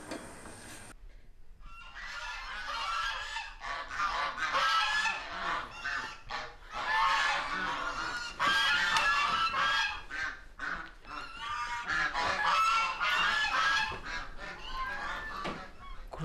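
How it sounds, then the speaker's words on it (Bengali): Geese honking loudly and continuously at close range, a noisy flock calling over one another in dense overlapping bursts with only brief gaps. "রাজহাঁস প্যাক প্যাক করছে"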